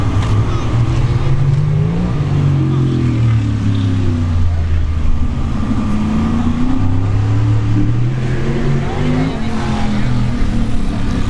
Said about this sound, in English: We have another 4th gen Camaro.